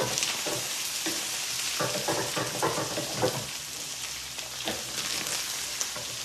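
Oil sizzles and spits steadily in a frying pan while Italian pasta with tuna is cooked, a continuous close crackle with scattered sharper pops and light stirring scrapes throughout.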